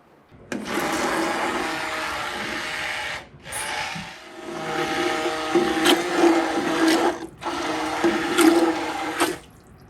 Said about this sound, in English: Now, Nicole, I have here an immersion blender.